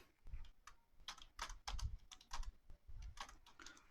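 Computer keyboard typing, close and dry, in quick irregular bursts of keystrokes with brief pauses between runs.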